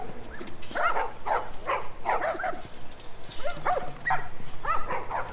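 A dog in The Last of Us video game barks and yips in a rapid series of short, fairly loud bursts, with a few brief pauses, clear and close.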